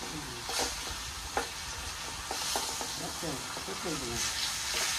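Fish frying on a banana leaf in a pan, a steady sizzle and hiss with some stirring and scraping, while people talk over it at moderate volume.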